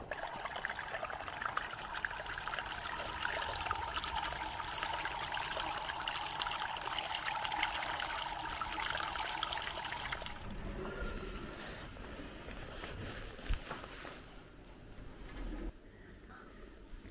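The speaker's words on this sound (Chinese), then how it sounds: "这里的水声更大" Water rushing loudly beside a lakeside campsite at Higashifuruya Lake in Nasu-Shiobara, a steady close wash that softens and eases into a gentler trickle toward the end.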